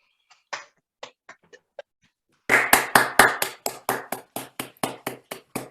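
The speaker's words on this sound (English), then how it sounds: "So can we take a moment to give them a round of applause?" A few scattered claps grow into a short burst of steady, rhythmic clapping from a small group, fairly close and clear.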